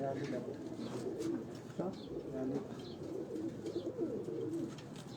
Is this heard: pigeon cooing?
yes